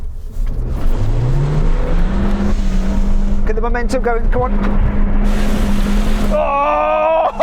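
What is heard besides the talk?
Suzuki Jimny engine revving uphill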